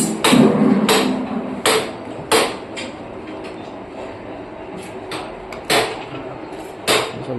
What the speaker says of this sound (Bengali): ব্যান্ডিং মেশিনে সব ব্যান্ডিং করা হচ্ছে।